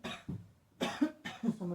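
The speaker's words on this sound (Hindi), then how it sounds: "वैसे भी खांसी हो रही है बहुत टाइम से," Several close, loud coughs from a man sitting under a quilt in a room on a cold night, one at the start, then a pair and a final cough with short pauses between them, with no talking.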